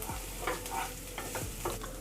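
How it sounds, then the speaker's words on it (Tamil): Stir-frying grated coconut with snake gourd in a pan: a spoon scrapes and stirs in several strokes over a steady low sizzle, close by, with no voices. "தேங்காவை சேர்த்துட்டு மிக்ஸ் பண்ணிவிட்டு லைட்டாக வதங்கினா போதும்."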